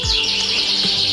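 Canaries in a breeding house give a brief, bright burst of high chirps and trills, close and loud, with no talk.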